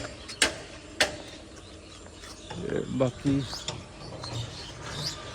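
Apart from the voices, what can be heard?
rolling shop shutter being opened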